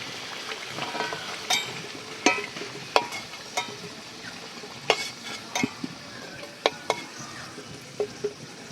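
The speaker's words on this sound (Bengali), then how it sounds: "আলুটা সুন্দর লাল লাল ভাজা হয়ে গেছে" Potato pieces finish frying in oil in a village kitchen pan, a soft sizzle under sharp, scattered clinks and scrapes of a spoon being stirred and lifted, close and fairly quiet.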